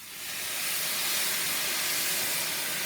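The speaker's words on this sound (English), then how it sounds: "Oh, listen to that nice sizzle, huh?" White wine poured into a hot pan beside a grilled pork chop bursts into a loud, steady, broadband sizzle that swells within half a second and holds close and bright, with no talking.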